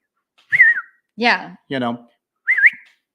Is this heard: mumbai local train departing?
no